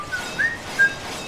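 A few short whistled notes from the character Leon in the video game Resident Evil 4, thin and clear, spread across a second over low background hiss.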